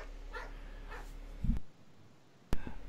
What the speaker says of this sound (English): the dogs barking in the background